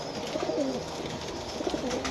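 A group of pigeons caught from a rooftop in Jhelum, Pakistan coo softly and continuously up close, with low, rolling calls over a steady background hum.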